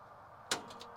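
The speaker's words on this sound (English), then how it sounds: "Yes, that is the hood pop" A single quick click as the hood latch of a cheap junkyard pickup truck is popped open, faint and close, followed by a brief rattle in an otherwise quiet moment.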